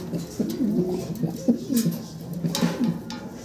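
Pigeons coo steadily at a farm, soft rolling calls repeating in short overlapping phrases at close range, with a little background noise and no speech.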